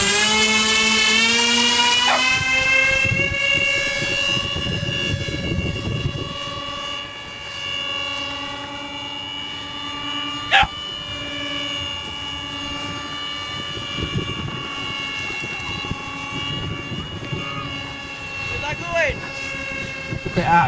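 A radio-controlled Avro Vulcan B2 model aircraft launches and flies, its engine a loud, sustained whine that holds steady and then slowly fades and shifts as it moves away, with voices talking over it.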